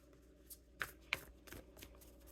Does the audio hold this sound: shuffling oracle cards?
yes